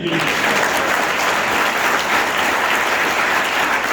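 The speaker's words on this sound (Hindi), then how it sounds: "तो कार वाले गुरुजी हमारे ताली बजा दो जी।" An audience breaks into loud, continuous clapping, a dense and even wash of applause that holds steady throughout.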